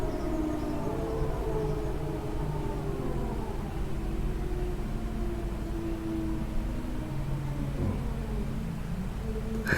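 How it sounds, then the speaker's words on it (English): Air raid sirens wail steadily in the distance, their drawn-out tones sliding slowly downward and sustained over a constant background hum, with no voices. "air raid alarms."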